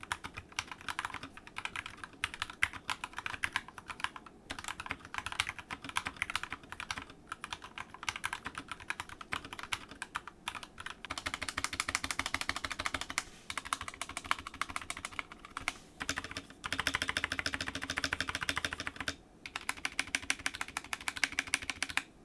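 Continuous typing on a Glorious GMMK 2 gaming keyboard with pre-lubed switches and internal dampening, a dense run of soft close clicks and clacks with brief pauses, fairly quiet and with no voices.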